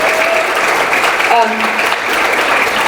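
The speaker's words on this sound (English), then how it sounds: "give them a round of applause" An audience at the People's Great Salt Lake Summit opening plenary gives a loud, sustained round of applause, the clapping a thick, even roar, with a few brief voices calling out over it.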